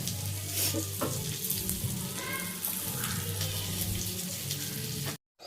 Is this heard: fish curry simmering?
yes